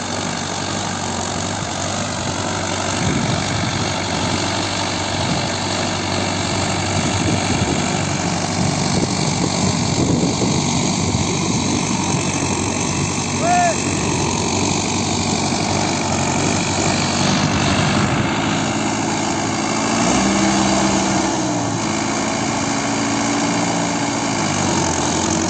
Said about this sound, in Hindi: बहुत ही अच्छा रिस्पॉन्स है ट्रैक्टर का।